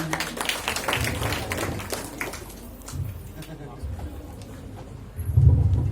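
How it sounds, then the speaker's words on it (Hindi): An audience at a public gathering claps for a guest, giving scattered, uneven handclaps that thin out midway, with a voice speaking over part of it and a loud low thump near the end. "हिमांशु दीक्षित जी के लिए बहुत बहुत तालियां।"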